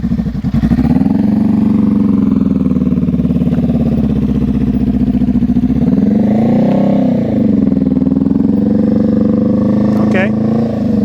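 A motorcycle engine revs steadily and loudly during slow-speed riding practice, holding a sustained drone with a rise and fall in pitch midway. An instructor talks over the engine.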